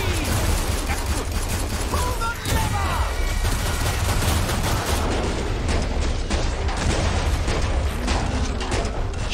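Gunfire in the video game Killing Floor during an online squad fight, rapid overlapping shots and bursts firing almost continuously at a loud, dense level with a low rumble underneath.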